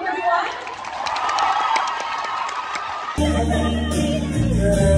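An audience applauds and cheers at an event, with a crowded burst of clapping and shouts for about three seconds before it cuts abruptly to louder music.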